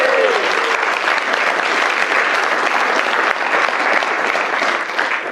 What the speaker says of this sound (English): So I know you'll be tired after all that clapping.